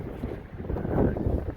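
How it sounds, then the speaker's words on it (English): Wind gusts rumble and rush against the microphone, building louder toward the middle and staying steady and close throughout. "windy"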